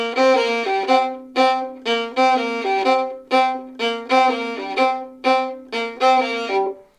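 A fiddle plays a boogie woogie melody on its low string, sounding alone and close with a steady rhythm of bowed notes, accented strokes and short gaps between phrases.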